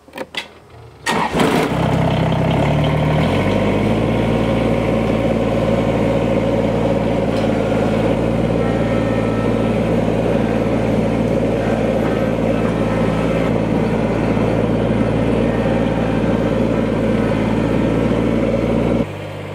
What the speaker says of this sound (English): Now let's see how the tractor fits in the overhang.